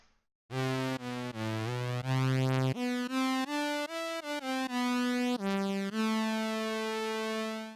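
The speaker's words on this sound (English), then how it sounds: "A nice sawtoothy, spread sawtooth sound" A bright, buzzy spread sawtooth synthesizer plays a sustained melody of held notes stepping up and down, loud and alone with no other sounds.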